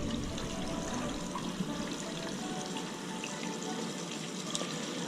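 Water runs from a kitchen tap during cooking, a steady hissing stream with low water pressure that continues evenly throughout with no talk.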